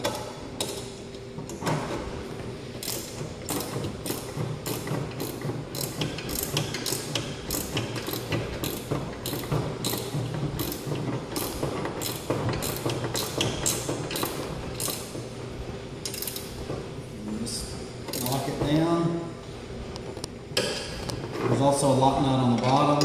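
Ratcheting clicks from a wrench tightening belt tension on a Speedball Boss pottery wheel, a steady rhythmic series of close mechanical clicks and creaks, ending with a voice under the mechanical noise.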